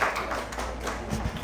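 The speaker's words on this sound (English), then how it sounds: "Give Kawai a clap." A university class gives a student a brief round of clapping, a few quick scattered claps in a classroom that fade within a second or so.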